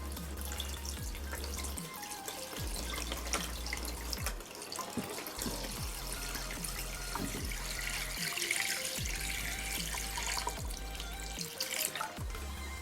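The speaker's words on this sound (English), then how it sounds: "So now the water is filled to the level of the slate." Steady running water pours and splashes continuously into a crab tank, with faint drips and trickles over a low hum throughout.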